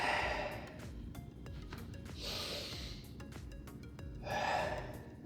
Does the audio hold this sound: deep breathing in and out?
yes